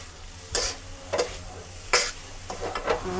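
Noodles and bean sprouts being stir-fried for Thai pink rice-vermicelli stir-fry, with a few separate scraping, clattering strokes of a spatula in a pan over a faint sizzle, close and fairly quiet.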